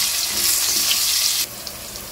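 Brinjal pieces frying in hot oil give a steady, loud sizzle that drops abruptly to a quieter hiss partway through, with no voices.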